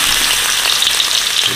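Loud, steady frying of ingredients in hot oil in a home kitchen pan, a dense close crackle with no pauses across the short stretch.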